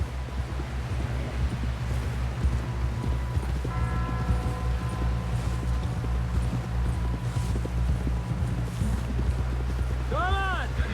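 Horse in Red Dead Redemption 2 gallops with steady rhythmic hoofbeats under a continuous low rumble of wind, while characters talk over it, one voice calling out near the end.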